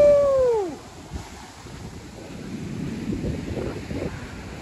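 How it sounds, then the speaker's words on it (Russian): Sea waves roll ashore on Koh Samui in rough weather, a broad rushing wash building and surging under steady wind buffeting the microphone, after a brief gliding whine at the start. "Такие волны пошли."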